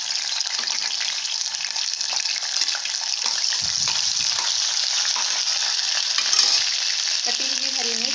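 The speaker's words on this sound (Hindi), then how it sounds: "तेल थोड़ा गर्म होने के बाद हम इसमें कटा हुआ ऑनियन डालेंगे।" Chopped onion hisses in half a cup of hot oil for tomato chutney, a strong continuous sizzle with stirring clinks, close and loud with no one speaking.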